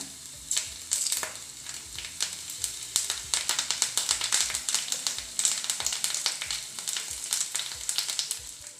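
Curry leaves crackle and sizzle in hot oil for a Chicken 65 dish, a dense, steady frying hiss with sharp pops and occasional stirring clatter throughout, close and fairly loud with no talking.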